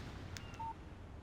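A phone in the Alan Wake video game gives a short text message alert, a faint brief electronic beep over quiet background hiss.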